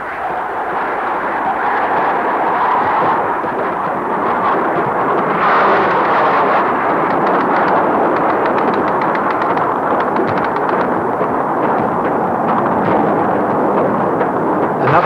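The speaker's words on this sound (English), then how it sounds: "Another Mirage and another bomb." Bombs exploding during an air attack on the SS Canberra in the Falklands, 1982, heard as a dense, continuous roar of blasts and rumbling din in an old archive recording, loud throughout.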